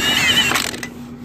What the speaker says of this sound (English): buy this half-inch drive Milwaukee cordless impact